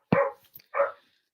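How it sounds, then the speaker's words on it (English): Two sharp, loud barks from a pet dog ring out close by, one right after the other, separated by a short pause in a quiet indoor room. "I think your dogs heard my dogs. He's going crazy."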